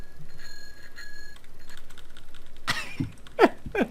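A bell in Farming Simulator 2015 rings in a few quick, bright dings at the start, then fades, and a couple of sharp clacks follow near the end.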